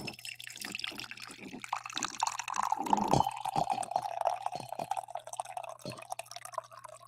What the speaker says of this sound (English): I accidentally did a little clinking there with the coffee pot and the cup